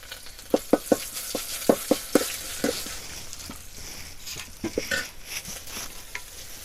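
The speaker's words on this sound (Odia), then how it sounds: "ଛେଚା ରସୁଣ ଦେଇଦେବା।" Crushed garlic and panch phoron sizzle in hot oil in a pan with dry red chillies, for Odia horse gram dal, with steady frying hiss and a run of sharp spoon-stirring clicks and scrapes, close and alone without talk.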